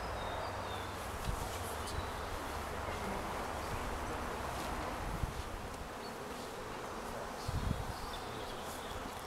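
Honey bees swarm around a hive in a steady, dense buzz that holds at a moderate level throughout, with a few louder swells as individual bees pass near.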